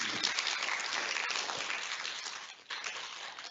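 Audience applause at the close of a lecture on Prague, a dense steady wash of many hands clapping that fades slightly toward the end, with a short dip before it swells back.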